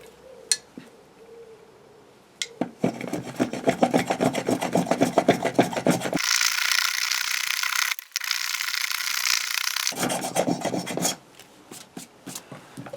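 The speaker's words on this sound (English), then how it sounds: "again using the spoke shave" A spokeshave smooths a eucalyptus wood bowl in rapid, rhythmic rasping strokes, close and loud, starting after a quiet pause and continuing steadily with a brief break midway.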